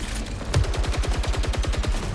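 Tactical rifle in the Saros video game firing a rapid, steady burst of roughly fifteen loud, evenly spaced shots over two seconds, with no talking.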